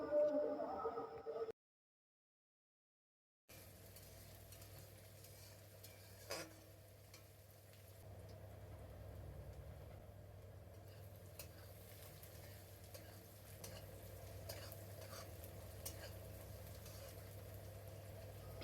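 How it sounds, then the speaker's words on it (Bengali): Chopped onions, two medium ones, are being stirred and fried in a pan, giving a soft, steady sizzle with occasional scraping of the spoon after a brief silence near the start. "এখন এই পেঁয়াজটাকে একটু ভালো করে নাড়াচাড়া করে নেব।"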